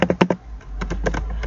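Typing commands on a computer keyboard while setting up a Cisco router's password configuration: a quick cluster of close keystrokes, a brief pause, then another run of lighter taps, with no talking.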